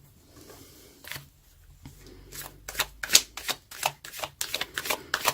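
Tarot cards are shuffled and handled close up: a faint rustle first, then a run of crisp riffling bursts and flicks, quick and uneven, with no talking.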